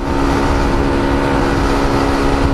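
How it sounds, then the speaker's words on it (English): Three-wheeled motorbikes race, their engines giving a dense, loud, continuous roar with no pauses, played back from a recording. "Rupanya ke video motor roda 3 berlumba."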